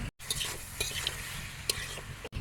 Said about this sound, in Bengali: মাংস কেবল কষানো হচ্ছে